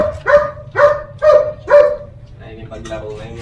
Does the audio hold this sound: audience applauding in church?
no